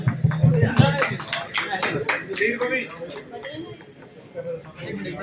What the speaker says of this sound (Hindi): तालियां बजाएं, जोरदार तालियों के साथ।